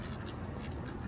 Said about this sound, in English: Wow, all geese, very big.